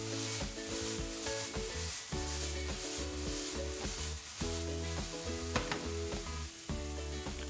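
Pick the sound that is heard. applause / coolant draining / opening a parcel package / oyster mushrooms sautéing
oyster mushrooms sautéing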